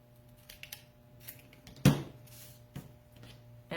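Scissors trimming paper for a Halloween witch and pumpkin craft, a few faint snips followed by one louder, sharper cut, set against a quiet room hum with no talking.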